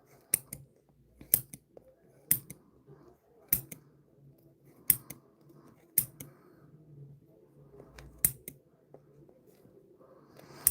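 Scissors snipping through a yarn cord, a series of crisp isolated cuts spaced roughly a second apart, close up in a quiet room.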